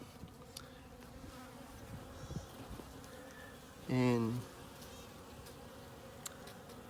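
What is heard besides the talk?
honey bees buzzing at an opened nuc hive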